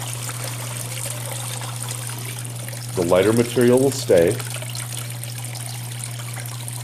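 Water trickles steadily over a gold prospecting mat on a Gold Hog Miller table in Uwharrie National Forest, a constant faint flow with a steady low hum beneath, while someone speaks briefly in the middle.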